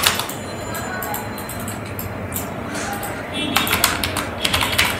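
Rapid clicking keystrokes on a computer keyboard come in quick bursts with short pauses, close and fairly quiet, while someone talks over the typing.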